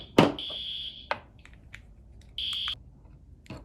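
A school fire alarm sounds in short bursts of a high, steady electronic tone, with loud clicks and knocks between the bursts and no talking.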